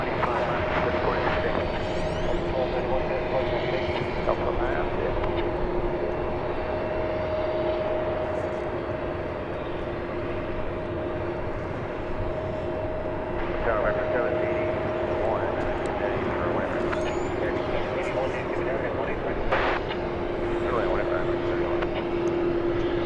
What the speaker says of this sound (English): here is the mighty MD-11 being pushed back